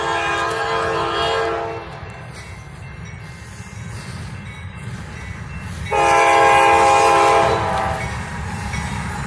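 Train passing at a rail junction in Fostoria, with a loud rumbling rolling past and two long blasts of its horn, the second blast louder and nearer.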